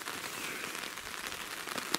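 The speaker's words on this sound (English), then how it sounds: "I like the sound of rain on a top, but not this early." Rain patters on a tarp outdoors in Northumberland, a dense steady hiss with occasional sharper drops, close and continuous with no voices.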